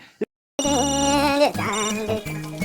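Telephone ringing in a Hindi TV comedy show scene, a sustained electronic ringtone-like tone playing loudly after a brief pause, with a faint short voice at the start.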